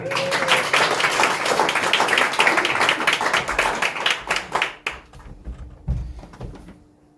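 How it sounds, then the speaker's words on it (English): Audience at a basic improv showcase at the Asheville School of Improv applauding, a dense, loud burst of clapping that thins into scattered individual claps and a few thumps before fading out. "when we bless the stage with a little bit of applause"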